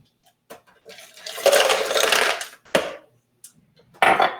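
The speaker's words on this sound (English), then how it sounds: "Put in 2 cups of ice." Two cups of ice cubes are poured into a blender holding water, making several loud, close bursts of rattling clatter separated by short pauses.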